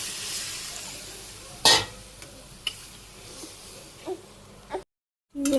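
Water is poured into a pan of fried onions, raising a broad sizzling hiss that gradually fades, with a few sharp clinks and a brief drop to silence near the end.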